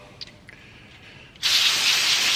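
Brake cleaner bursts from an aerosol can onto a cooling-system part of a Gen V-swapped OBS Chevy. After a quiet start, one loud, close, continuous hiss begins partway through and holds to the end.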